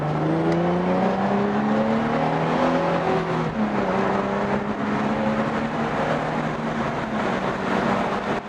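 A 300 hp Nissan 350Z makes a short run. Its engine note climbs steadily under acceleration, shifts gear around the midpoint, then pulls again with a loud, close, continuous drone.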